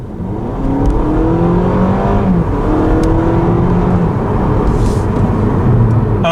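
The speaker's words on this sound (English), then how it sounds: "And then the engine screams and then goes." A Honda Civic engine revs hard under acceleration, a loud continuous strained roar with rising harmonic sweeps as it climbs through the gears, heard close from inside the car with no talking.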